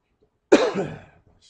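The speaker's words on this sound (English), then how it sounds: "I apologize for coughing in your ears all night." A single harsh cough bursts out close by, then trails off into a faint throaty rasp before silence.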